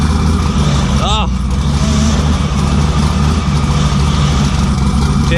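A car with a wrecked clutch, refusing to go into gear, runs with a loud, continuous low engine drone and rough mechanical noise. A brief chirp cuts in near the start and a quieter one comes near the end.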